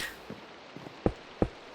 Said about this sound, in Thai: เพราะตอนนี้ที่บ้านผมฝนก็ตกด้วยสิ